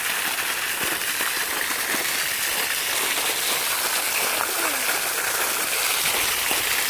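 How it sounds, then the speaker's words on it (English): Water from an artesian well at Sycamore Valley in Bollinger County pours steadily outdoors, a continuous broadband rushing and splashing like a small stream that holds even and fairly loud throughout. "But this is the artesian well."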